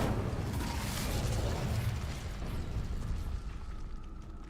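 Incendio fire spell cast in Hogwarts Legacy, a loud rushing whoosh and roar of flame that holds for a few seconds before fading out, alone.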